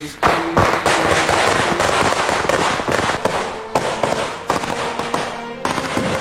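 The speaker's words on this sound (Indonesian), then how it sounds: "ia membakar petasan sepanjang jalan saat proses pemakaman berlangsung" Dense, rapid crackling of firecrackers bursting nonstop along a street during a funeral procession, loud and close, a continuous barrage of sharp pops with no pauses.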